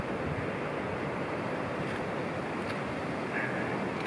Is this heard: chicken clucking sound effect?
no